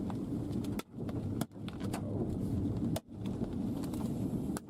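Hail pounds a storm chaser's vehicle on the windshield and roof during a dusty tornado near Littlefield, Texas, producing a dense continuous clatter of impacts with a few louder thumps standing out, heard close up inside the car.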